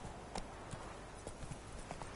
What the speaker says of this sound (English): Horse is over here. And this will mount bottomwards.